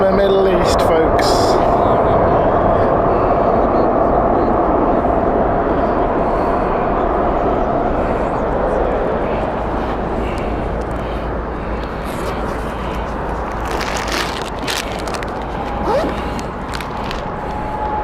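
A heavy airliner on a long takeoff roll along the full runway at Heathrow, its deep engine roar loud and sustained throughout and slowly fading, with people talking over it.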